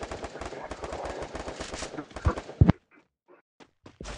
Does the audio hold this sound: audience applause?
no